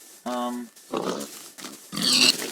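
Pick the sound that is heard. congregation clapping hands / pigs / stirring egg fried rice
pigs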